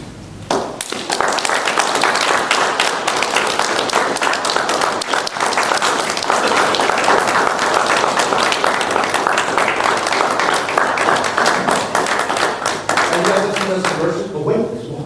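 Sustained applause from an audience at a 2018 surprise martial arts ceremony presenting a Hanshi certificate to Greg Lindquist: dense, loud clapping that starts abruptly and holds steady for the whole stretch, fading slightly at the end.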